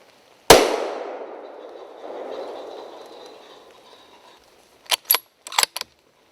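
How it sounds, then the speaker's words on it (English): A single rifle shot at a roebuck during a stalk cracks out sharply and loudly, then echoes and rolls away for several seconds, followed by a few brief clicks and clatters of handling after a quiet pause. "The shot finds its mark and the buck drops on the spot."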